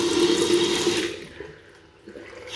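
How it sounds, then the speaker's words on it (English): Water running from a bathroom sink tap in a rented flat with grey-grouted tiles and limescale, a loud steady splashing stream close by that cuts off after about a second, leaving quiet room noise. "Water running fine"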